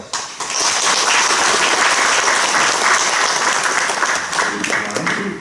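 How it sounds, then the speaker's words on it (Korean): A congregation at a church anniversary and ordination service breaks into loud, sustained applause, dense many-handed clapping starting abruptly and holding steady before easing slightly at the end. "축하의 박수"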